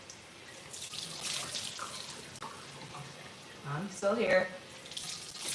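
Tap water runs steadily into a sink while someone rinses their face and neck during a nighttime skincare routine, the flow briefly louder near the end, with a short spoken remark over it.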